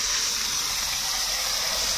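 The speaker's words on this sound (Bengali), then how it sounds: "গরম হয়ে গেছে, এখন মাছগুলো ভেজে নেব।" Fish fry in hot mustard oil in a kadai, giving a steady, even sizzling hiss that stays loud and unbroken throughout, with no other sounds over it.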